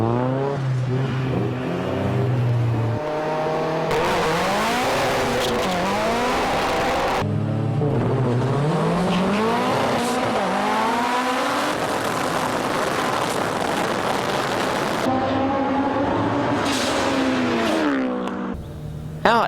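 A Ford Anglia and a turbocharged Honda S2000 race hard, with loud engines revving and shifting through sweeping pitch rises and falls, tires squealing at times, sustained and close throughout.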